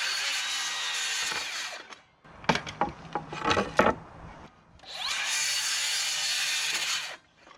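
A power saw cuts through a wooden board, making two long, loud buzzing passes with a burst of clattering and knocking between them.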